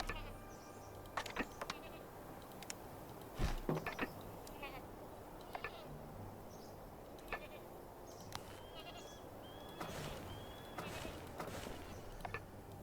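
Goats bleating in the Anno 1404 strategy game, scattered short calls rising over a steady bed of game ambience and music, moderately faint.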